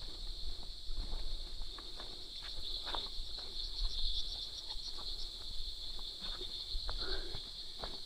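Steady high-pitched cricket chirring runs continuously through the whole stretch, with faint scattered rustling and soft thumps beneath it, at a rural farm campsite among pineapple plants in Calauan, Laguna, Philippines.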